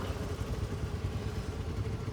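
A group of nine motorcycles setting out together gives a faint, steady low engine rumble with light pulsing idle throb, somewhat distant and with no voices.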